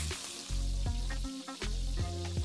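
Ginger and garlic paste sautéing with onions in a pan gives a steady close sizzle, broken by the scrape and clank of a spoon stirring. No voices are heard.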